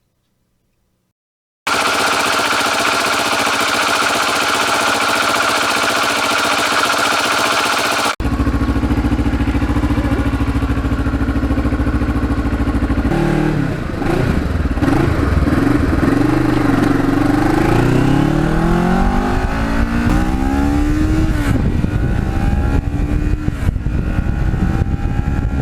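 A custom Kawasaki Ninja limited edition with carbon fiber parts and gold wheels rides out on a foggy open road early in the morning. The engine hums steadily, then rises and falls through several revving gear changes up close.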